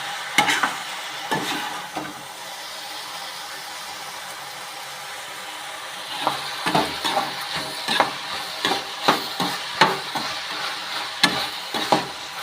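Ridge gourd stir-fry being stirred in a pan, with a steady soft sizzle under repeated scraping strokes of the spoon that come in quick bursts, sparse at first and then more regular in the second half.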